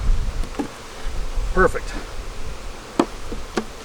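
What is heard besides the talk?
angry honey bees buzzing around hives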